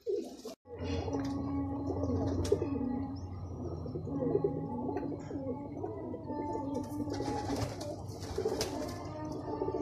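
A Teddy and Ferozpuri pigeon pair coo close by, continuous throaty rolling coos with wing flutters and other birds chirping around, no speech.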